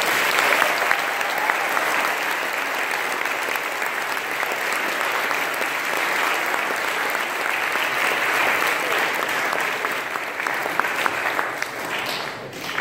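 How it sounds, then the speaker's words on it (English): Sustained applause from a corps gathering, a dense, loud and steady wash of many hands clapping that holds for more than ten seconds before easing slightly at the end. "Let's give him another round of applause for that"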